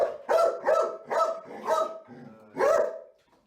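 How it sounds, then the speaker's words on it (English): A trained dog barks repeatedly on command in a bark-and-hold drill, five or six loud, close, evenly spaced barks with brief pauses between them. "So we can do what's called a revere, which is like what we call bark and hold."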